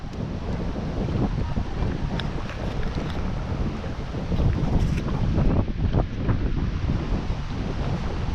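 Strong wind gusts outdoors at a fishing spot, buffeting the microphone with a loud, continuous low rumble and roar that swells slightly midway, with no voices.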